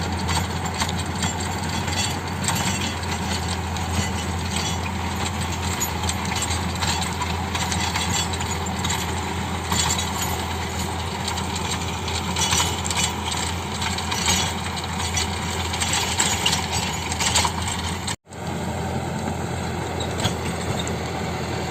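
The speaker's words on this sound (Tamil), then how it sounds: "இப்போது இந்த வண்டி வந்து எப்படி ஓடுது, எப்படி ஒர்க் பண்ணுது அப்படின்னு பார்த்துட்டு வாங்க" Farm vehicle ploughing agricultural land, a loud, steady mechanical clatter and rattling drone that runs on continuously with one brief dropout near the end, no voices.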